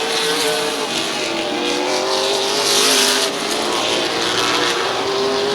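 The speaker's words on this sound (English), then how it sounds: "That Papuga 27 truck has been awfully fast" Race trucks roar around a short speedway oval, with a loud, sustained engine drone whose pitch shifts slightly as they pass, and no voices over it.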